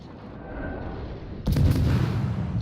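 Battleship main guns fire in a naval combat game, a heavy booming blast that rises abruptly out of steady background rumble and holds as a loud, sustained roar.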